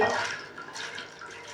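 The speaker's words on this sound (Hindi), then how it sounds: "नमक डालने के बाद इस हमारे पास चने की दाल है, ये डाल देंगे" Chana dal tipped into a wok of boiling water seasoned with salt and turmeric, a brief splashy pour that settles into a soft continuous bubbling hiss.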